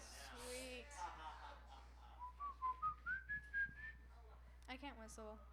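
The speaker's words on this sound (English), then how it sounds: "I can't whistle." Someone attempts to whistle, producing a thin, wavering tone that rises in pitch, followed by several breathy puffs of air. A voice is heard briefly at the start, and the sound stays quiet and close.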